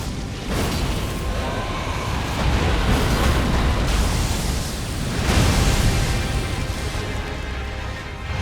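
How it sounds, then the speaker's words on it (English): Thunderous magma explosions and lightning strikes erupt during a boss fight against Bayle the Dread in Elden Ring: Shadow of the Erdtree, a loud rumbling roar that swells twice and holds steady without any talk. "Strike, big lightning, big magma explosion, lightning strike."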